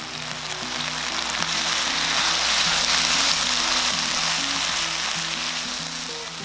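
Fish cakes and green onion stir-frying in a pan with oil, giving a steady, close sizzle and crackle that holds an even level throughout with no talking.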